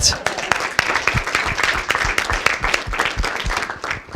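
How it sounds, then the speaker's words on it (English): A board meeting audience breaks into a round of applause for longtime coaches, sharp, fairly close clapping throughout with a voice faintly underneath. "That needs a round of applause, everybody."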